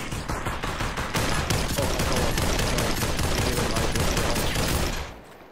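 Rapid, sustained automatic gunfire in a shooter video game, a dense loud fusillade of shots lasting about five seconds before stopping abruptly.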